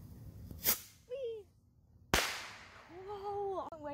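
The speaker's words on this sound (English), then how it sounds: "First time lighting a firework." A firework launched from the ground gives two sharp cracks about a second and a half apart, the second a loud burst that trails off into a hiss, with excited voices reacting between and after the bangs.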